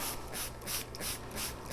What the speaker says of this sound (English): Take your spray bottle